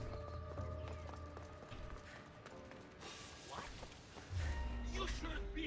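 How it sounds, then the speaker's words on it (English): A horse gallops in Assassin's Creed Odyssey, rhythmic hoofbeats under game music and ambient effects, with a low thump and rumble rising near the end. "Where is this horse?"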